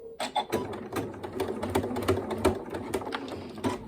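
A sewing machine runs a short back stitch on a children's quilted snack bag, a steady close rattling whir of the needle with ticking mechanical beats throughout.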